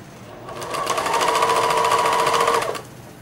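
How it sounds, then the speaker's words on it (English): A sewing machine stitches quilt layers together on a ragtime quilt, a single close, steady run of rapid mechanical stitching that starts, holds for about two seconds, then stops. "just sew the two layers together at a little bit tighter stitch than we had before"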